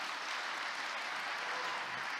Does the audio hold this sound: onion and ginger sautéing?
no